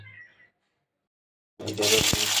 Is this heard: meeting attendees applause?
no